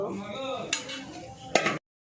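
Serving spoons clink against dishes and plates as home-cooked pulao and mutton curry are served, with two sharp clinks over a soft, continuous background.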